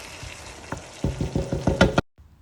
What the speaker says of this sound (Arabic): هنا كتسناو كيتشحر الدجاج مع هاد المكونات كاملين